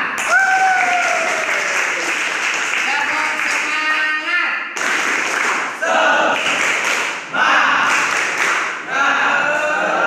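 Dense applause from a classroom of students, steady and loud, with short breaks and voices briefly audible between bursts.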